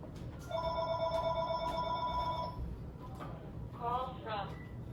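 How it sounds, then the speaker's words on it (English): A telephone rings twice with an electronic trilling tone, the rings overlapping quiet background noise and brief talk during a chemistry lesson. "the phone is ringing"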